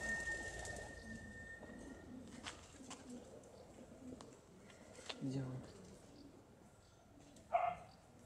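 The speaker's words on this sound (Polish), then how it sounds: "Są dwa pierwsze gołębie." Racing pigeons arriving home at the loft during a competition flight, with faint cooing and a brief louder call near the end under quiet outdoor background and occasional clicks.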